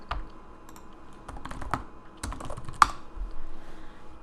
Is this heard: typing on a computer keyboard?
yes